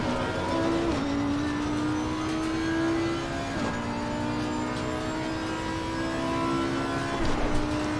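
An Audi GT race car engine in Assetto Corsa Competizione sim racing, heard as a steady, loud drone that climbs in pitch through repeated upshifts, each gear change marked by a brief dip before the revs rise again.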